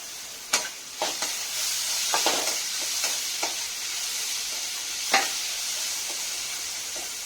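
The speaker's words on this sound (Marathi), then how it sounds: "आणि पाव चमचा कांदा लसूण मसाला हे पण चांगलं परतून घ्यायचंय।" Chilli powder and onion-garlic masala sautéing in a pan, a constant soft sizzle broken by several sharp scrapes and taps of a spoon stirring, close by and without speech.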